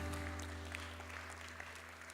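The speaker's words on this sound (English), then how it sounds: "Give yourselves a round of applause" Brief applause from an audience at a school kickoff event, a steady wash of clapping over a low constant hum, fairly quiet and distant.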